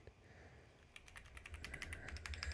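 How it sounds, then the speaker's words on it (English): Typing on a Lemokey L1 keyboard connected in wired mode, a quiet run of quick, uneven key clicks that begins softly and grows into a denser patter of presses toward the end. "Okay, and we're typing, so let's do a sound test of this."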